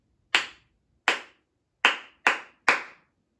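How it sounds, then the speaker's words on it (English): Hands clap a musical rhythm, five crisp, close claps with uneven spacing: two spaced apart, then three in quicker succession, with silence between them. "I'm going to clap the rhythm"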